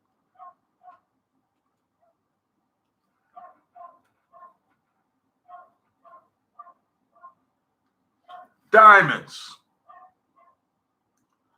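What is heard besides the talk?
dog barking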